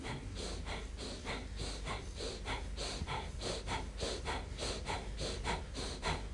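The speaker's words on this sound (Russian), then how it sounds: "Опять дыхание животом." Rhythmic belly breathing during a qigong exercise, with steady repeated inhale and exhale breaths close to the microphone and no talking.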